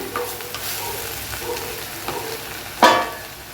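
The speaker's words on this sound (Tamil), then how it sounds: "இந்த மண் ஹீட்டுக்கே நல்லா வதங்கிடுங்க" Manathakkali greens and onion sautéing in a clay pot, giving a soft continuous sizzle with light stirring taps and one louder scrape near the end, close by and with no speech.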